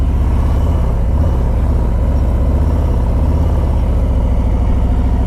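A motorcycle rides tight 18-by-36-foot figure-eight circles at low speed, its engine a steady, loud, low rumble throughout with no talking.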